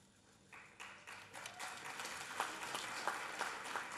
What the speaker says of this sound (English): that's why they are applauding